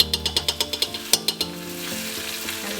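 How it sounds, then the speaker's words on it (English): Curry leaves, garlic, ginger paste and lemongrass sauté for a chicken curry, opening with a quick run of sharp crackling pops that settles into a steady close sizzle. "lemongrass, and we'll saute all these for another 2 minutes"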